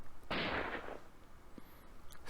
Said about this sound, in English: Suddenly, a gunshot rings out and Kaori falls down.